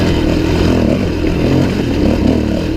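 Suzuki DRZ400e dirt bike cruising in third gear, its engine droning loud and steady up close while the ride adds rattles and clatter over the terrain; nobody speaks.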